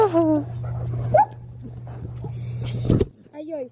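A dog whimpers and whines in high, wavering cries on its owner's return home, heard close up over a steady low hum, and someone speaks excitedly between the cries.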